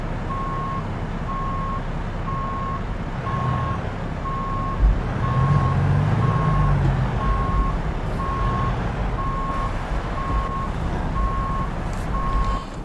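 Regular electronic reversing beeps from a truck backing under its trailer in American Truck Simulator, steady evenly spaced tones over a continuous low engine rumble throughout.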